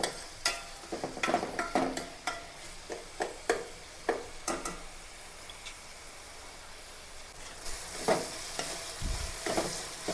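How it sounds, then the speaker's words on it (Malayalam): Onion, green chili, ginger and garlic sauté in a pan for a chicken curry, a steady soft sizzle broken by sharp clinks and scrapes of a stirring spoon, close and without talk. "അപ്പോൾ നമ്മുടെ സവാളയും പച്ചമുളകും ഇഞ്ചിയൊക്കെ ഒന്ന് വാടിയിട്ടുണ്ട്."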